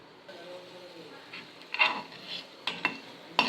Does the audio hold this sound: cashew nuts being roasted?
yes